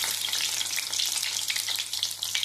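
Four garlic cloves frying in hot oil in a small pan on a stove, a bright continuous sizzle with crackling pops, close and steady throughout.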